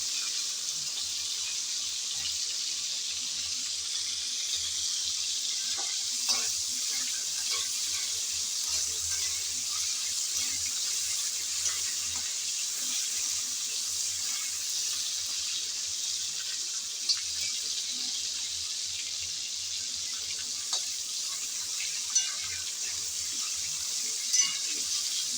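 Shrimp frying in hot oil while being stirred, a steady close hiss of sizzling with occasional soft clicks and taps from stirring, no talk over it.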